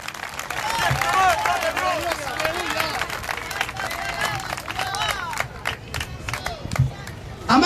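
Praise applause from a Pentecostal church congregation, with loud crowd noise, clapping and raised voices sustained throughout and a brief stronger burst near the end.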